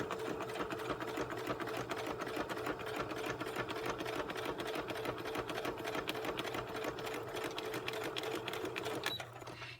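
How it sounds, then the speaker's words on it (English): Home sewing machine stitching fabric for a pocket project runs steadily with a fast mechanical whirr and rapid needle ticking for nearly ten seconds, close and continuous, easing slightly near the end. "I'm going to start a few stitches in, and I'm going to go backwards. And then I'm going to go forwards."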